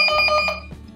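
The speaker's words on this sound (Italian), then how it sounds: "per far vedere che suonerà il citofono e in più arriverà il pop-up sul cellulare" An entry-phone intercom fitted with an Amazon Ring Intercom rings with a loud electronic buzzing tone pulsing rapidly for about half a second, then stops, close and clear, with no talking.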